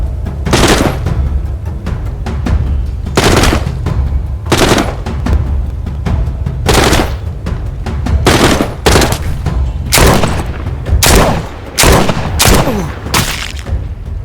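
Repeated loud gunshots in The Walking Dead: Saints and Sinners, a dozen sharp bursts at irregular intervals over a steady low rumble, with no talking.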